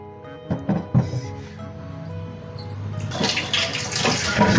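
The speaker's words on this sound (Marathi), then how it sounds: "आता हा माठ आपण नळाखाली ठेवू आणि पूर्ण माठ आहे ना आतून बाहेरून ओला करून घेऊ" Tap water pours over an old, dried-out clay water pot to soak it inside and out, splashing and gushing louder toward the end after a few knocks of the pot.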